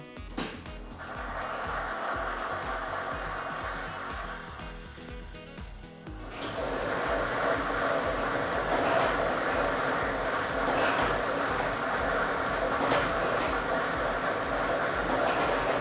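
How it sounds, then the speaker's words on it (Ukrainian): A lottery drawing machine runs steadily, with a continuous whirring rumble and rattle of tumbling balls that grows louder about a third of the way in and holds to the end. "І ми вмикаємо лототрон."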